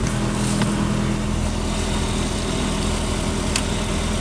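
Toyota 4Runner with a swapped 3RZ engine idling steadily and loudly at close range as the newly installed transmission is put into first gear, a constant low engine drone with a faint click or two.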